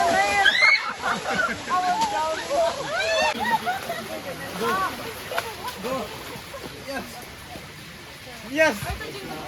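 Someone swimming in a river at Camp Gilgal sends up close, irregular sloshes and splashes, with voices calling out over the churning water.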